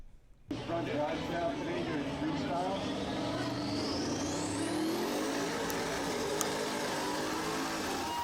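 A large off-road vehicle churns through mud, its engine roaring loudly and steadily for the whole stretch while a high whine climbs gradually in pitch.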